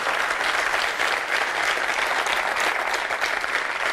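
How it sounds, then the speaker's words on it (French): A French television studio audience breaks into loud, continuous applause, a thick wash of clapping that stays steady and close throughout with no voices over it. "je crois qu'on peut l'applaudir"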